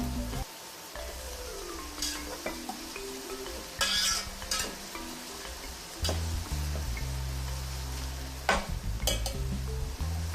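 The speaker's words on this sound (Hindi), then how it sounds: "इनको हमने स्टर फ्राई करना है, हाफ कुक करना है वेजिटेबल्स को सारियों को" Vegetables and chicken stir-fried in a pan, a continuous sizzle with stirring scrapes and occasional metallic clinks of utensil on pan, heard close up and without talk.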